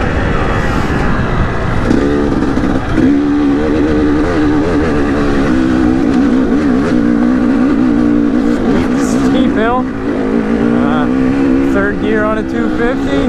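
A 250 dirt bike engine on a forested Pennsylvania trail at Majestic Trails holds a steady, close buzzing drone, its revs rising and falling throughout as the rider works through the gears.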